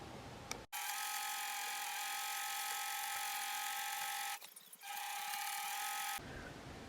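A home sewing machine stitches steadily with a freshly refilled bobbin, a continuous close mechanical whir with one brief pause partway through, no talking.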